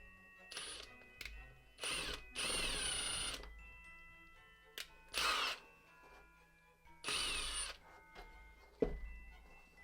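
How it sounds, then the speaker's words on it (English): Several short bursts of a small power drill whirring as it drills holes in a miniature shelf, each a second or two, separated by pauses with faint clicks and handling noises. "Then I'm going to drill 2 more holes in the front of the shelf."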